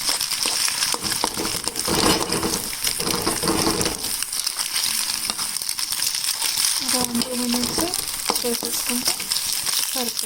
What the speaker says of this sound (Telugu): నెక్స్ట్ వెల్లుల్లి కారాన్ని ఫ్రై చేసుకోవాలి ఒక వన్ మినిట్ అలా